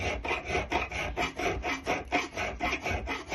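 A half round file rasps across a knife guard lug in steady back-and-forth strokes, about two a second, close and dry with no voices.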